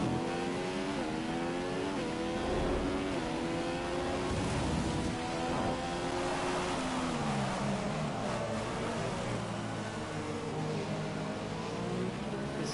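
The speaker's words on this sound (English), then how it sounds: "It's sent into the gravel." A Formula 1 car in the racing game F1 2014 runs off the track into the gravel, its engine a continuous loud whine that dips and climbs in pitch through the whole stretch.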